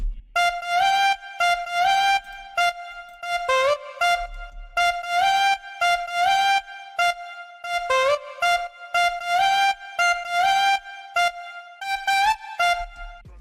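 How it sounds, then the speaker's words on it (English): A chopped vocal sample plays a melody of short clipped sung notes in a steady, choppy rhythm, repeating phrases with brief gaps, loud and alone. "So I chopped up the vocal and it sounds like this."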